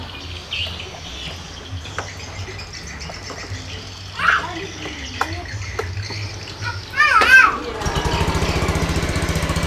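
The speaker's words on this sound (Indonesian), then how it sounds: "Oke, motor udah hidup ya." Indonesian motorcycle engine, recently fitted with a new rotak yet still sputtering, starts and then idles with a steady low rumble from about 7.5 s onward, following rustling, chirps and other background noise.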